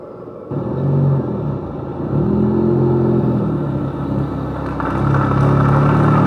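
A car engine rumbles loud and close during a comedy skit, its revs rising and falling, then climbing again near the end, with no one speaking.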